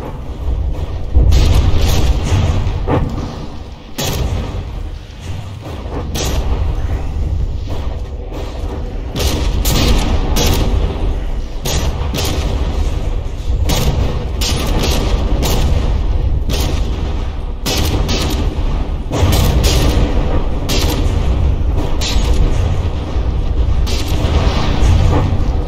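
Warship cannon fire and shell impacts from the From the Depths battleship Demonitzer in a tournament brawl: a loud, dense, continuous barrage of overlapping booms and sharp hits rolling on without pause, with no talking.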